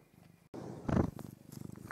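A cat purring up close, a steady low rumbling rhythm that swells loudly near the start and then continues softer, with no talking over it.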